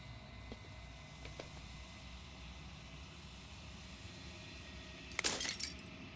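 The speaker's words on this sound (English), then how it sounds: "As the final fragment of glass shatters, you see yourself with newfound clarity." Glass fragments shatter in the video game Slay the Princess, a sudden bright crash with tinkling shards late in the clip, rising over a quiet low ambient drone with a few faint clinks earlier.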